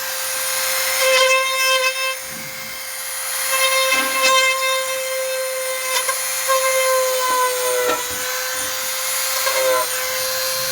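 A drill bit spins through holes in a clear Lexan RC car body to open and deburr them, a high, steady whining buzz with repeated bursts of grinding as the bit bites the plastic.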